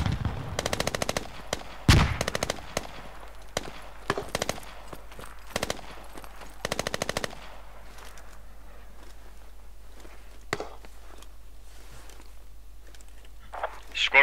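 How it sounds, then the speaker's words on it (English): Suppressing machine-gun fire in the game Squad comes in several loud, close automatic bursts early on, then gives way to quieter distant shots and faint movement. "I'm gonna give you guys suppressing fire"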